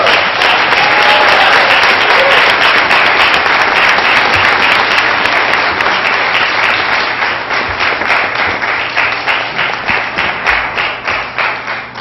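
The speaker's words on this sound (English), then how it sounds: "let's give our spellers a round of applause" Loud, sustained audience applause for young spelling bee contestants, a dense wash of many clapping hands that thins toward the end into more distinct, rhythmic claps.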